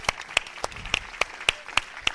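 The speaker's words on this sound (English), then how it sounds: "yes, round of applause." A few people at a conference summit clap for a welcomed speaker, sparse and fairly faint, with individual claps spaced out rather than forming a full ovation.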